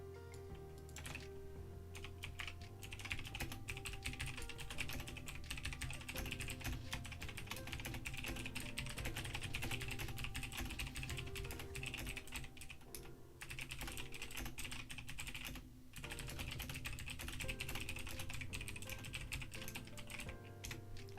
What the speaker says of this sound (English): sorry for typing so much